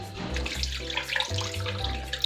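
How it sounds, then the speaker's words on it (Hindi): Cornflour mixed with water is poured into a hot pan of orange chicken sauce, giving a steady liquid splashing and trickling sound that runs close and fairly loud for the whole stretch, with no talking. "इसे डाल दूंगी मैं"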